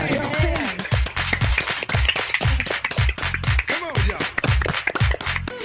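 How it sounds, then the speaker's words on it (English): Rhythmic hand clapping to a party song, sharp regular claps on a steady beat mixed with loud music and singing voices. "Everybody clap your hands!"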